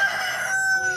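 A rooster crows once, close and loud: a single full cock-a-doodle-doo filling the whole short moment, with no voices around it.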